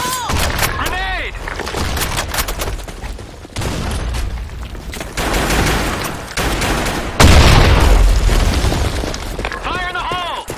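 Grenade explosions and gunfire in a combat video game come as heavy booms and rapid shot bursts in a busy, loud firefight, with voiced shouts and radio-like callouts layered over the blasts.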